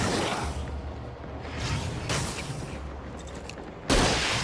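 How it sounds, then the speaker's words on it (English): A flare gun fires in the Alan Wake video game, a loud burst with a whooshing rush over rumbling game noise, followed by a sharp blast near the end. "Oh, because it was flare gun, not a real gun."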